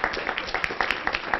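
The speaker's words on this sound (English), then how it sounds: "yep, you can applaud to that" Audience applause at a county high school arts recognition event, a dense, steady wash of many hands clapping throughout, fairly close and even in loudness.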